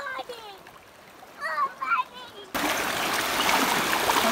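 Water splashing at a lake, loud and steady across the latter half, with children's voices and chatter in the first part.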